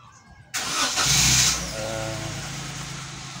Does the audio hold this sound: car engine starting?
yes